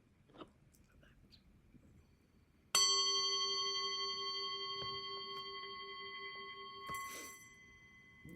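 A single struck gong rings out, bright and sustained, its shimmering tone slowly fading over several seconds in a quiet room.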